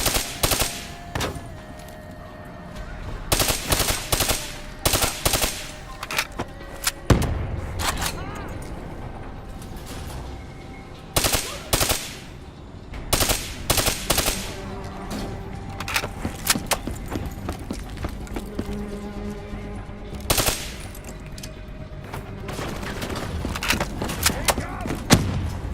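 Gunfire in the Call of Duty Black Ops III video game, with loud bursts of automatic weapon fire and single shots recurring in clusters, along with explosions and mechanical game effects.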